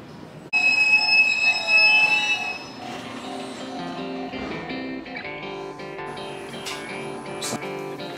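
A Japanese train rumbles close by in Nara or Kyoto with high, sustained wheel squeals and ringing metallic tones that ease off after a couple of seconds.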